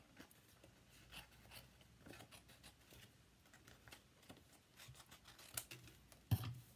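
Scissors snip through paper to cut away a stamped butterfly, a quiet, close run of short crisp cuts in an uneven rhythm with light rustling. A sharper clack comes near the end.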